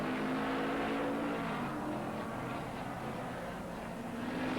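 Sports sedans racing on the Oran Park circuit in a 1979 Australian Sports Sedan Championship round, a faint, distant, continuous engine roar with sustained revving.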